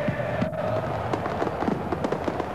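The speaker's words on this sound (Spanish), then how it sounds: "Siguen los fuegos artificiales" Fireworks crackle and pop in rapid, irregular bursts over a dense crowd roar at La Bombonera stadium in Buenos Aires, during Boca Juniors' championship celebrations.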